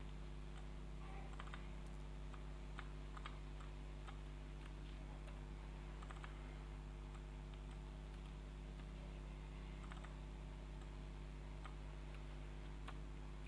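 Quiet keyboard typing during spreadsheet work, with scattered soft key taps over a constant low electrical hum.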